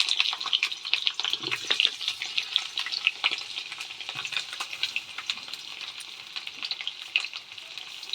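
Pointed gourd pieces fry in oil on a cooking stove, a loud, continuous crackling sizzle close up with scattered sharp pops and occasional faint stirring underneath.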